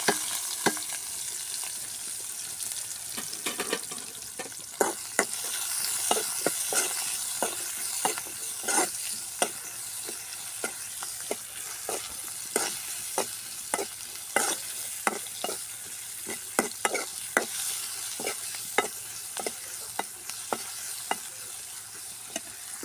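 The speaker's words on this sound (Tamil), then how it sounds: "வெங்காயம் ஒன்று போடு." A single onion, with green chilies, fries in a pan for a spicy evening snack, a steady sizzle broken by frequent sharp scraping clicks of a spoon stirring, close and alone with no voices.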